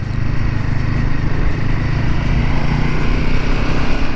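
Royal Enfield Himalayan 450 single-cylinder motorcycle engine running at steady low revs, a continuous loud throbbing drone that holds even for the whole stretch with no talk over it.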